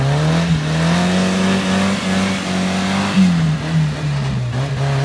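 A 1-litre Suzuki Samurai stuck in deep snow revs hard and steadily, its engine note rising and dipping slightly over a few seconds, loud and close with no talk.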